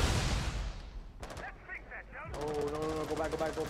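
Gunfire in Rainbow Six Siege ranked play on the Hereford Base map, with loud sustained rapid bursts at the start, a few sharp isolated shots mid-clip, and game sounds continuing under a voice near the end.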